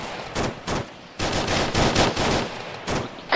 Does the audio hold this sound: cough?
no